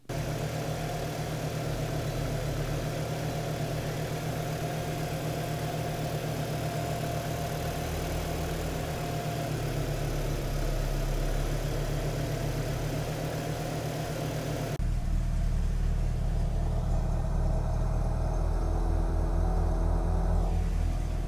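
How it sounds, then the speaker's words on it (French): A Volkswagen Corrado G60 engine idles unsteadily and continuously, close by, its low rumble lurching through the whole stretch with a slight shift in tone partway through; no one speaks. "mais par contre le ralenti est toujours aussi instable"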